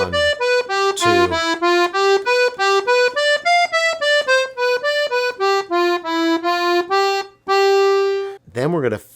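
A piano accordion plays a bouncy Brazilian forró phrase of short, repeated reedy notes in a syncopated rhythm, close and loud, with a few brief breaks between runs.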